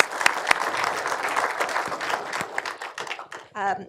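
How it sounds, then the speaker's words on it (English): An audience claps for journalist Emily Feng after a talk on identity in Xi Jinping's China, a dense burst of applause with a few sharp standout claps that thins out before a voice starts at the end. "let's give Emily a round of applause before we get into audience questions"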